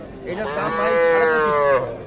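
A young calf gives a single drawn-out moo at a cattle fair, close and clear, lasting a couple of seconds.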